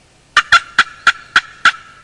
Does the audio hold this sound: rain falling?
no